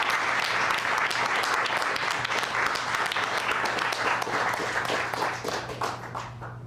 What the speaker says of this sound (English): Everybody clap your hands for Lizette Santiago.